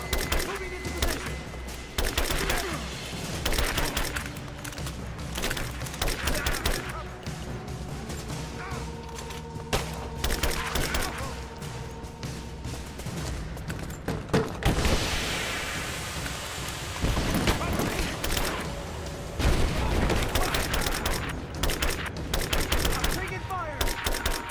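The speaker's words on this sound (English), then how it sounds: "Open fire! I'm taking fire!" Heavy gunfire in the action game Rise of the Tomb Raider, with sustained bursts of automatic fire and scattered single shots over a rain-like rushing noise, loud and dense throughout, while game characters shout.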